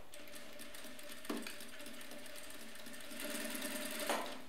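Sewing machine runs a short finishing seam on a strapless party dress, with a quiet, steady mechanical whir and light rhythmic needle clatter throughout, plus a couple of soft clunks.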